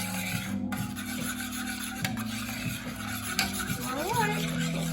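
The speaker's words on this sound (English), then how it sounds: "So we're just melting the butter, but we don't want to kill our yeast" A spoon scrapes and rubs steadily around a pan while butter melts in it, making a near, continuous rasping over a faint low hum.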